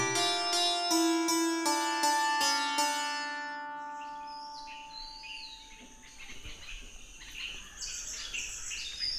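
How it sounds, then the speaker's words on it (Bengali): Following a brief chiming musical tone, faint chirps from cuckoos, magpie-robins and other wild birds flit through a quiet outdoor background. "কোথাও কোকিল, কোথাও দোয়েল, আবার কোথাও নাম না জানা বুনো পাখির কিচিরমিচির শব্দে ভরে উঠেছে"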